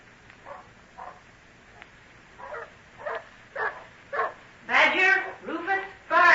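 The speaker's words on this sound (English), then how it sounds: "Stop that barking." Several dogs bark in a rural scene of a Dr. Jekyll and Mr. Hyde audio drama. Short, separate woofs and yips come at a regular pace and grow louder and closer together, and a voice is heard near the end.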